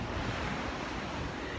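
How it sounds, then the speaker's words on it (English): Ocean waves roll in on a windy shore, a dense continuous roar of surf with wind rumble against the microphone, loud and steady with no speech. "the babies are going to get acclimated to the sound of the ocean"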